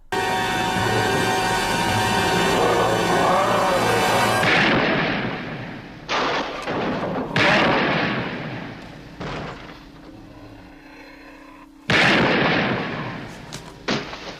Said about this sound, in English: And the sheriff fires 3 shots.